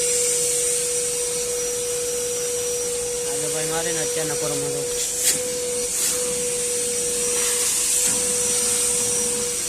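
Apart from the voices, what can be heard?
vacuum machine at car service station cleaning Thar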